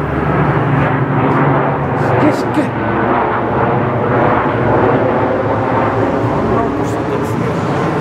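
A loud, broad roar of an airplane passing overhead fills the whole stretch, steady and rumbling, while a man exclaims over it.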